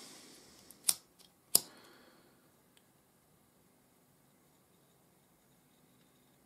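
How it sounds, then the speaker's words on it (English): Scissors snip off excess parachute cord from a cobra weave bracelet: two sharp close cuts in quick succession, followed by near silence. "Cut off that excess."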